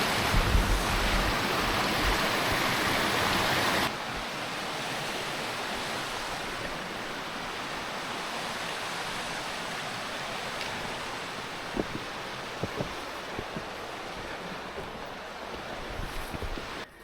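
A stream rushes over stones on an off-trail hike at Hendre'r Mynydd, a steady, broad watery roar with wind noise, louder at first then settling to an even wash with a few small knocks, no talk.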